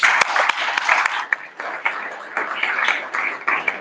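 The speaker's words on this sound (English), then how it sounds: "So I think you all deserve a round of applause." Applause from a standing-room crowd at the Kaspa Experience livestreamed event in Berlin, dense steady clapping with a few sharper claps, fairly loud and close throughout.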